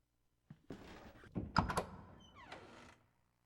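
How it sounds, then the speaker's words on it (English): A door swings open with a dull thunk followed by creaking and rattling mechanism noises, fairly close and alone, ending in a short squeak before falling quiet. "The door has been opened."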